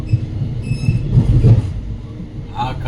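SMVT Bengaluru to Bidar special train running, a steady low rumble of wheels and carriage noise that swells in the middle, with faint voices in the background.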